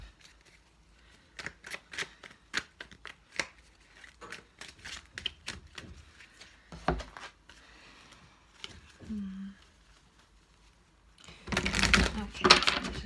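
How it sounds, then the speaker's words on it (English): Tarot cards are shuffled in quick, crisp riffles with soft clicks and taps, followed by a louder burst of rustling near the end. "Just going to shuffle them all just now."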